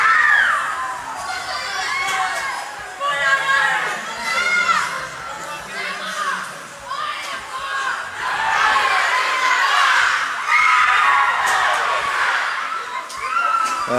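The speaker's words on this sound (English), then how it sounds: "work out whether we can be heard over this extraordinary atmospheric crowd here" Loud, roaring crowd at a weightlifting competition in Samoa, with sustained cheering, shouting and high-pitched screams swelling in waves throughout.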